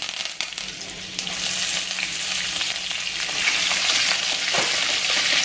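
Curry leaves and green chilies fry in hot oil for a Marathi cabbage bhaji, a loud, close, crackling sizzle that swells steadily with a few spatter pops and no talking.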